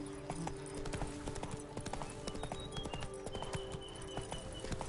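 Hooves of Roach, Geralt's horse in The Witcher 3: Blood and Wine, clip-clop in a steady, quick trotting rhythm close by, with game ambience and tonal music underneath.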